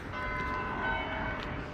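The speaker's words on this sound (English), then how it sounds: "Oh, it's the town hall giving me 1:45." A town hall clock bell rings out the time as a sustained, ringing metallic tone that hangs in the air at a moderate distance, with no one talking over it.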